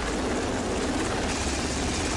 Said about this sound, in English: The helicopter is a significant addition to the combat capabilities of a modern destroyer